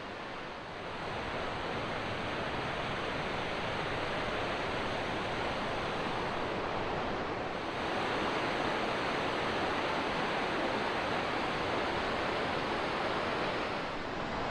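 The River Esk rushing over its rocky bed high in the Lake District below Sca Fell in winter, a steady, dense roar of flowing water that holds close and unbroken throughout, with no voices.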